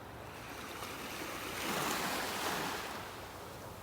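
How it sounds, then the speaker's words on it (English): Ocean waves washing onto a beach in North Naples, Florida, a soft continuous surf that swells in the middle and then eases, with no voices. "Just let you listen to the sounds of the waves."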